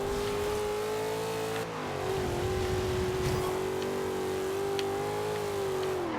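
A muscle car's engine revs steadily while driving in the racing game Forza Horizon 2, with a brief dip and pitch change as the throttle lifts, then a sustained drone.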